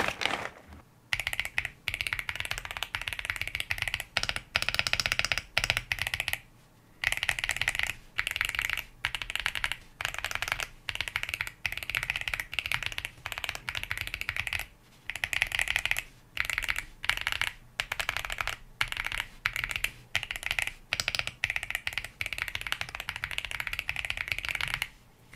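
Fast typing on a mechanical keyboard fitted with Monaco WS Brown tactile switches, a dense run of close clacky keystrokes broken by short pauses and bursts of rapid presses, no voices.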